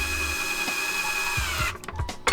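A power drill runs steadily, driving a countersunk screw into the wooden frame of a DIY fabric-covered sound panel; the motor whine is loud and close before breaking into short bursts near the end.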